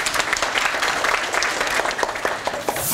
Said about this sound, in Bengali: প্রিয়াঙ্কার জন্য একবার জোরে হাত তালি